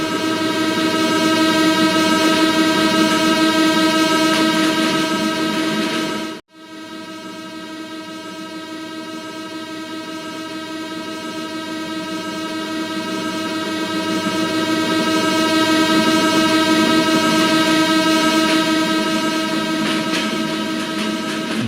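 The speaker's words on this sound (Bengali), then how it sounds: "অবশেষে দেখা মিলল আন্তনগর বনলতা এক্সপ্রেস মূলত আমাদের সাথে বনলতার ক্রসিং হবে" Banalata Express intercity train crossing in the BTZS train simulator game, a loud, sustained tonal drone of engine and horn that briefly cuts out, then swells back and carries on steadily with no talk.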